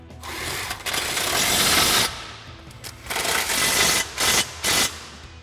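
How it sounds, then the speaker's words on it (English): Nuts being run down onto frame-rail studs on a Jeep Gladiator JT with an 18mm socket, swivel and short extension, a close mechanical whirring and clicking in several bursts with brief pauses between them. "Then we can tighten them up with an 18mm socket, a swivel, and a short extension."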